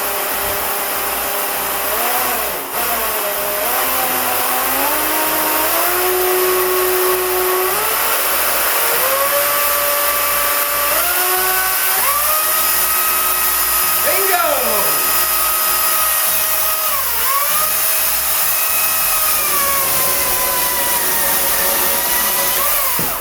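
A Makita 40V Max battery-powered tool runs continuously at high RPM, a loud steady whine whose pitch steps up and down as speed changes.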